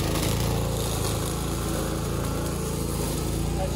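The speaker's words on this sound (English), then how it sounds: "The ultimate weed whacker." A weed whacker runs continuously close by, a steady buzzing engine drone that holds at one even pitch and level for the whole stretch, with no talking.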